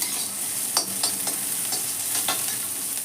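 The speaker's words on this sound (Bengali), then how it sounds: "মশলাগুলোকে আমি খুব ভালো করে ভেজে নেব। আমি এখানে হাফ টিস্পুন মতো তেল দিয়েছি" Spices, coconut and nuts fry in about half a teaspoon of oil for a drumstick masala curry, giving a soft steady sizzle broken by several light stirring scrapes, close and alone with no voices.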